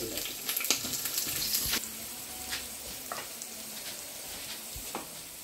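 Whole spices, dried chili and cherry tomato chutney frying in a pan, a soft continuous sizzle with occasional crackles and stirring scrapes, close and quiet, without any talking.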